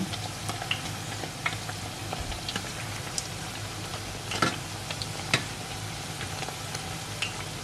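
Thai chicken fish cakes (tod man) frying in hot oil, giving a steady dense sizzle with scattered pops and crackles throughout and no talking.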